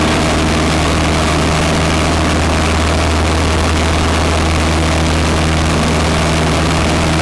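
A light aircraft engine drones loudly and steadily at close range during takeoff, a continuous heavy hum with a constant low tone and no talk over it.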